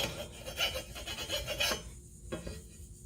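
A hand file rasps across the edge of a new lawn mower blade in quick back-and-forth strokes, close and fairly loud, then the filing stops.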